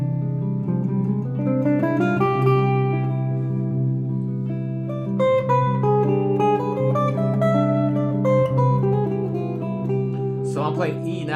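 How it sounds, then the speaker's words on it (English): A C harmonic major scale played as a melodic line over a sustained chord, with steady harmonic tones, a continuous keyboard-like texture and a brief bright flourish near the end. "So I tried to play C harmonic major, and that sounded so much better."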